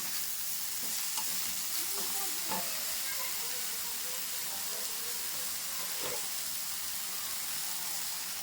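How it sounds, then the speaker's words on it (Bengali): Vegetables fry in a little butter with salt in a pan, producing a constant, even sizzle, with a few soft stirring knocks breaking through now and then. "অল্প একটু বাটার দিয়ে সবজিগুলো একটু ফ্রাই করে নেব"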